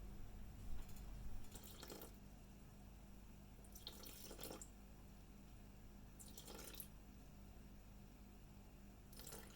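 Faint, quiet bursts of water pouring into a measuring container in a home kitchen, with about four short pours spaced a couple of seconds apart over a low steady background hum.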